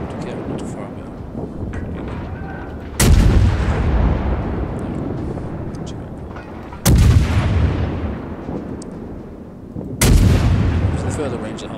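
Heavy naval guns fire in the World of Warships video game, three loud booming salvos spaced a few seconds apart, each followed by a long rumbling decay, with a background game rumble and occasional talk underneath.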